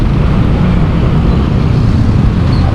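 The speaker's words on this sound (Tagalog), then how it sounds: "Oops, traffic." Road traffic heard from a Yamaha NMAX scooter ride in Malolos, as a loud, constant wind-buffeted rumble of engines and passing vehicles, close and unbroken, with no voices.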